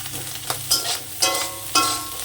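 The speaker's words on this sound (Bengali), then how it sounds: "চিংড়ি মাছটাকে আমি ভেজে দেবো" Shrimp fry in oil in a pan with a steady close sizzle, broken by three scraping stirs at even intervals.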